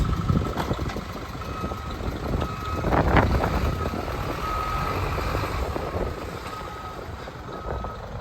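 A 2006 GMC W3500 box truck with a 5.2-liter turbo diesel idles and rumbles close by, its engine a continuous low drone, while faint repeating backup beeps sound over it as it moves.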